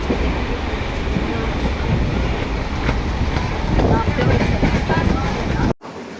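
A passenger train on a long-distance journey to Kanyakumari rumbles loudly and continuously with rattling carriages and wheel noise, heard from inside, ending in a sudden brief dropout near the end.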